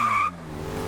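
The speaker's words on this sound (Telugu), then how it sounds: "అతను మన కారు తీసుకొని వెళ్ళిపోతున్నాడు." A cartoon car in a Honey Bunny kids' animation speeds off with a short, loud, high tire squeal that cuts out abruptly into a low rumbling engine hum.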